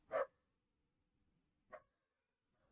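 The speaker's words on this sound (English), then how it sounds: "God damn it, this dog." A dog barks twice indoors, two short sharp yaps about a second and a half apart, somewhat distant and fairly faint against an otherwise quiet room.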